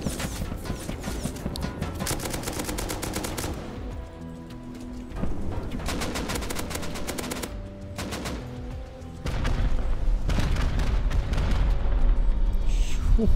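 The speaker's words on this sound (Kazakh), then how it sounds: "Дәл алдымда жарылған ғой." Gunfire and an explosion in the survival video game Rust: loud rapid volleys of automatic shots in several separate bursts, mixed with heavier booming blasts.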